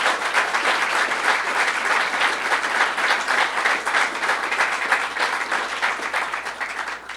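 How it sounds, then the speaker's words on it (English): Sustained audience applause at a public announcement event, steady dense clapping that stays loud and even for the full length with no voices over it. "So let's give them a big round of applause."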